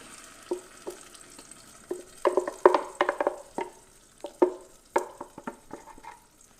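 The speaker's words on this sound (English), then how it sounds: "We're going to add the blend mixture here." Blended tomato mixture hits cooked tomato paste in a pot for jollof rice, giving bursts of sizzling and stirring scrapes, irregular and close, growing busier midway then easing off, with no talk.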